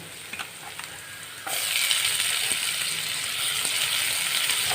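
Chopped tomato hits a pan of fried garlic and onion, a steady hiss that jumps sharply louder partway through and then holds as a bright, continuous sizzle with faint stirring.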